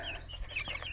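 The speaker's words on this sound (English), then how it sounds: "there are just a lot of birds in here for this little area" Chickens clucking and calling together in a small, crowded 4x6 coop, several overlapping bird voices close by in a brief, busy burst.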